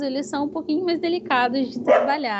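A dog barks repeatedly in short, loud yips close by while a person keeps talking over the barking.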